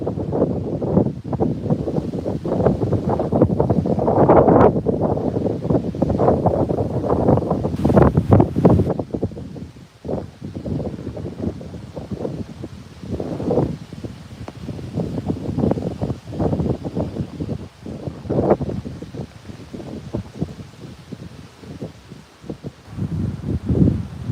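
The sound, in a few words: strong wind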